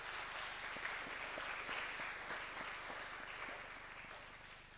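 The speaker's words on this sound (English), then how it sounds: "request you for a special round of applause to team number 363587 and team number 832415" Audience applause for two competing teams at a national data protection moot court competition, steady dense clapping from a crowd, moderately distant and sustained throughout without fading.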